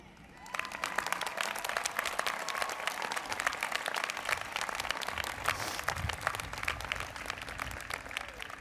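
A graduation crowd breaks into sustained applause honoring students of color, a dense wash of many clapping hands filling the hall for about eight seconds, fairly distant and even.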